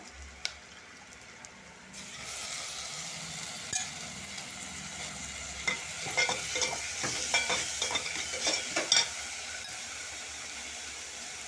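Moong dal stir-fried with onions, curry leaves, green chilies and turmeric in a pan, a sizzle that swells after a quiet start, with a cluster of close scraping stirs midway.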